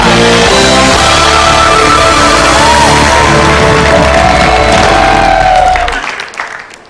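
Studio audience on an Indonesian TV game show bursting into loud, sustained applause and cheering with whoops, backed by music, before everything fades away over the final second.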